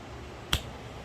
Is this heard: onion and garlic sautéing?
no